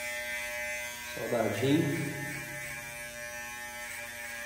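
Electric hair clippers fitted with a number 3 guard buzz through hair during a Brazilian barbershop fade, a short buzzing pass rising mid-clip over steady mains hum, with someone speaking close by.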